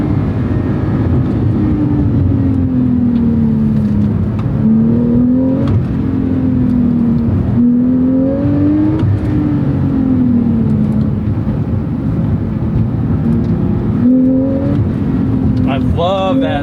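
Porsche 911 Carrera T (991.2) or 718 Cayman GTS 4.0 engine pulling under power, a steady loud drone with pitch rising and falling through gear changes, heard from inside the cabin beneath a voice.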